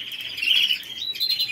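A single bird chirping nearby, a short bright twittering call that wavers and repeats quickly over a quiet background.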